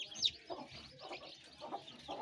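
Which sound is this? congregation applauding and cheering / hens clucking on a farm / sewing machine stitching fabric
hens clucking on a farm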